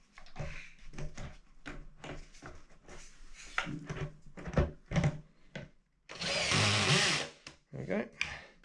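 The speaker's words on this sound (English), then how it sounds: "Just be super careful your drill doesn't foul on the leg there." A power drill whirs in one loud sustained burst while screws are driven during assembly of an Ikea Lack TV stand, heard close up after a stretch of talk and knocking.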